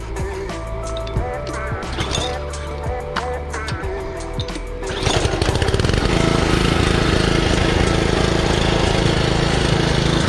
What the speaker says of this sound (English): we're here about to test the Karcher K2400HH pressure washer running the Honda GC 160